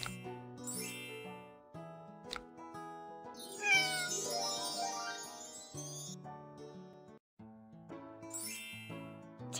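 A cartoon cat meows repeatedly in a kids' baby care game, its cries mixed with tinkling chimes, dings and bright background music, fairly loud and close throughout.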